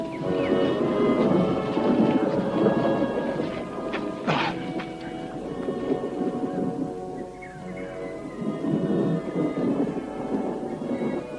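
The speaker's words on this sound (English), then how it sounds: "The typhoon is going to hit us, Sahib." A thunderstorm with heavy rain as a typhoon approaches: a dense, loud wash of rain with a sharp crack of thunder near the middle, then rumbling continuing underneath.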